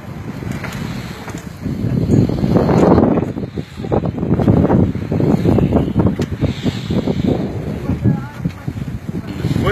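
Strong wind buffets a sailboat, the S/Y Lindor, as it leaves port under sail, a steady loud roar of gusts against the microphone with water and hull noise beneath.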